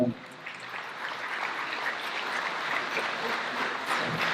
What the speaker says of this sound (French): on peut l'applaudir encore très fort